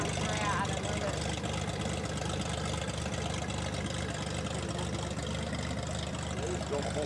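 A float plane's propeller engine drones nearby throughout at Lake Shasta, a constant low rumble with people talking over it.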